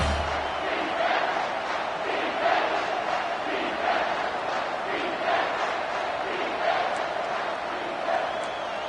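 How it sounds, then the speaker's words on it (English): A packed stadium crowd at a football game roars steadily on third down, a loud sustained wall of cheering with pulsing surges and no break throughout. "Third down, and this crowd is tearing the lid off this place."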